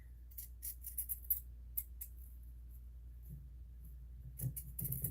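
Scissors snip around the fabric edges of a lined tote bag in a series of short, crisp cuts, some in quick clusters, close and quiet with faint handling noise between them and no talking.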